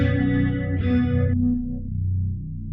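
A deep, sustained synth bass tone; brighter upper layers cut out partway, leaving only a smooth low rumble.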